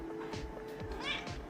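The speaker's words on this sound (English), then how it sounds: "If you hear meowing in the background, it's my cat." A house cat meows close by at a craft table, a short rising call over background household noise and some talk.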